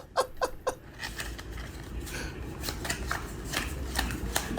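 Playing cards are shuffled quietly, a few crisp riffles at the start followed by softer, continuous card patter.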